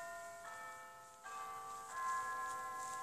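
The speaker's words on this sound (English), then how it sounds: "This is the sound of Big Ben" A recording of Big Ben's clock bell in London chimes faintly, with three successive bell strokes ringing out and sustaining into one another over quiet background.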